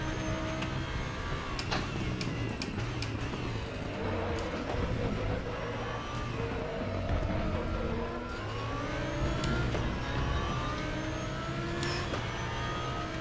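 An Audi GT race car from the ADAC GT Masters series screams through the gears at Autodrom Most in RaceRoom, loud and continuous, with repeated revving climbs and sharp downshift blips but no talking.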